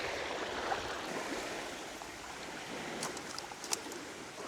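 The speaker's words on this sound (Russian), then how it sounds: "Волна, конечно, очень сильная." Strong waves wash along a lake shore by the reeds, heard from a boat as a steady broad rushing of water with a few small splashes and knocks, fairly quiet and with no voices.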